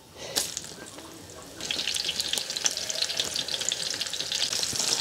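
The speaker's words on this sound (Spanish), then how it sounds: "Ahora le voy a poner la longaniza." Longaniza sausage dropped into a hot pan bursts into loud, bright sizzling that keeps crackling steadily after a brief quieter lead-in with a few clinks.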